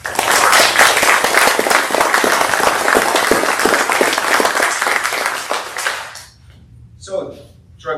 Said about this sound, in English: round of applause if we could